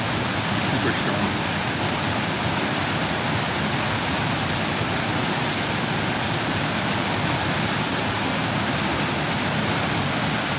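Heavy tropical storm rain pours down in Hilo, Hawaii, a loud, steady, unbroken roar of falling water that holds at full force throughout with no talking.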